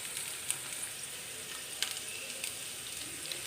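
Okra (bhindi) frying in a pan gives a faint, even sizzle with a few light clicks and pops scattered through it, and no speech.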